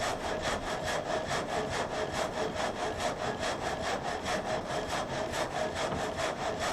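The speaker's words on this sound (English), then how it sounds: "With each pass of the saw blade, the log advances a set distance, shaving off a board with remarkable accuracy." A sawmill blade rips boards from a log in a steady, continuous rasp with a rapid regular pulsing rhythm, loud and unbroken throughout with no voices.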